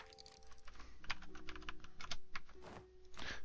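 Rapid clicking while filling out idea groups in Europa Universalis IV, a dense, irregular run of sharp close clicks at keyboard-like speed, with no speech over them.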